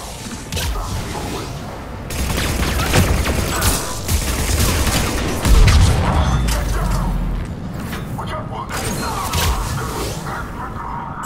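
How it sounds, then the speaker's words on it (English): Heavy cannon fire rolls through a Mass Effect 3 battle as a loud, continuous barrage of booms, cracks and whooshes, with a deep rumble swelling midway. "Those cannons have to be stopped."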